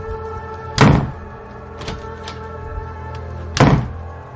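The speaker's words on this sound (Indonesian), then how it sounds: "suara ketukan itu berubah menjadi gedoran keras" A hotel room door takes loud, heavy pounding: two big thuds about three seconds apart, with lighter knocks between, set against a faint tonal background.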